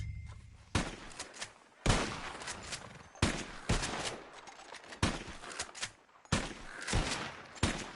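Gunfire in the video game Red Dead Redemption 2 cracks out in several sharp volleys, each followed by a brief echoing tail, the bursts coming roughly every second or so.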